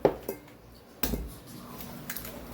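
Eggs cracked straight into keto rum cake batter in a mixing bowl: three or four sharp, close taps and clicks of shell against the rim, separated by quiet pauses, with faint kitchen room tone.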